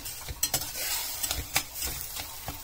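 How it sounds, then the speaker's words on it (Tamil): Tomato and onion vegetable kurma gravy cooks in a pan: a soft, steady sizzle with a few sharp scraping clicks of a spoon stirring, fairly close and alone, no talking. "இப்போ எல்லாம் மிக்ஸ் பண்ணி விட்டுட்டோம் இல்லையா, கொஞ்ச நேரம் வேகட்டும்."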